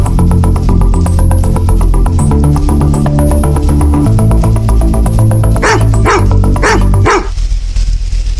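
A police dog barks on duty, its sharp barks rising near the end over a dense, loud backdrop of music-like sound that then drops away.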